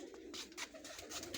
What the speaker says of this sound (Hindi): ये अभी कबूतर ले आए हैं जी भाई।